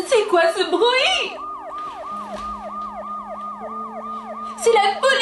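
After a moment of voices, a police siren sweeps up and down in a steady repeating wail at moderate distance, with talk returning at the end.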